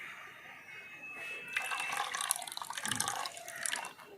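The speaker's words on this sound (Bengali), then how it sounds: "পরিমাণ মতো জল দিয়ে দেব।" Water is poured into a raw mango ice cream mixture in a home kitchen, a close splashing and trickling pour that swells and then tapers off over a few seconds, with no talking.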